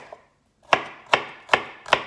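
A knife chops parsley and garlic on a board, landing four crisp, evenly spaced strikes close up, with nothing else around them.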